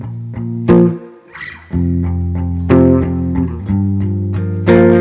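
Electric guitar playing the breakdown of a song, loud, sustained chords with a brief stop near the one-second mark before the strumming resumes.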